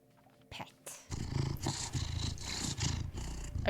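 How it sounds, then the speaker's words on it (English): A cat in the video game Cabernet purrs in a close, continuous rumbling rhythm that pulses steadily for several seconds after a few brief opening clicks and rustles. "Just listen to that purr."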